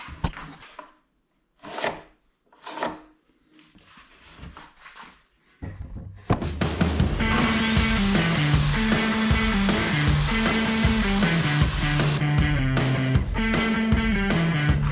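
Wooden pieces for a rink-side bench are handled with a few sharp knocks. Then a power saw starts up and runs loud and steady through the wood at close range.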